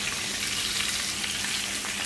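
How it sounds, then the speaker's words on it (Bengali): A large rohu fish head frying in hot oil, giving a dense, steady, close sizzle that holds evenly throughout with no voices. "মাথাটাও ভালো করে ভেজে নিচ্ছি।"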